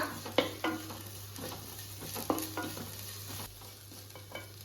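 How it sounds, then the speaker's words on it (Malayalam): Garlic, ginger and fennel paste stirred into fried onions for pepper chicken, a steady frying sizzle with a spoon scraping the pan in occasional soft strokes, close and without talk. "ഇതിലേക്ക് അരച്ചു വെച്ചിരിക്കുന്ന വെളുത്തുള്ളി, ഇഞ്ചി, പെരിഞ്ചീരകം കൂടി ചേർത്തിട്ട് വീണ്ടും ഇളക്കി കൊടുക്കാം"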